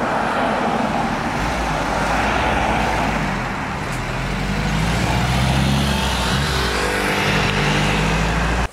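A Ford Mustang drives past in traffic, a loud, steady engine rumble over continuous roadway noise that swells slightly as it passes.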